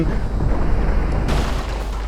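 Bomb blasts demolishing a building in the People's Playground video game, a loud, dense rumbling boom that churns continuously and brightens briefly partway through.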